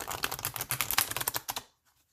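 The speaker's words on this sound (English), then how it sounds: "I learned how to shuffle like this when I was like 6 years old" A deck of Star Trek tarot cards is shuffled, giving a rapid, close flurry of crisp card clicks that runs for about a second and a half and then stops abruptly into silence.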